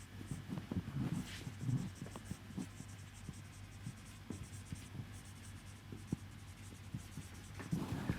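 Pen strokes scratch across paper as the given values of an engineering economics problem are written down: close, soft, irregular scraping and tapping over a faint steady hum.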